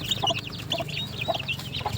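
Month-old turkey poults chirp and peep in quick, high, overlapping calls, close by and fairly quiet, with some low background rumble.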